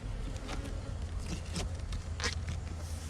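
Honey bees in a nuc box buzz with a faint, continuous drone, a few louder passes of individual bees rising and falling close by.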